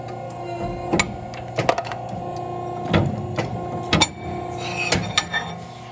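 An iron worker punches a 1-inch hole through half-inch-thick steel plate: several sharp, heavy clunks land at irregular intervals over a steady machine hum, close by with no talking.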